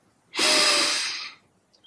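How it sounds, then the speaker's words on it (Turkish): A deep breath taken during a standing exercise with right arm forward and left leg back, one long, loud, close breathy exhale lasting about a second, with no talking. "Sağ kol önde, sol bacak arkada nefes alıp veriyoruz."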